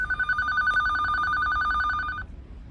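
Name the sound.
landline red telephone ringing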